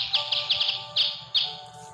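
Baby bird in the game Boku Boku, chirping in a quick series of about seven high, clear tweets, bunched at first, then spaced out, loud and close.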